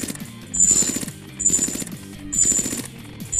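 Machine gun fire aimed at a block in a ragdoll video game, coming as three loud, rapid rattling bursts about a second apart, each with sharp metallic pings, with quieter gaps between them.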